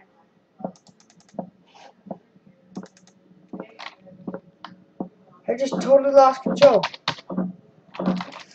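Computer keyboard keys pressed in a series of sharp separate clicks, steady and close, growing busier toward the end as a person talks over the typing.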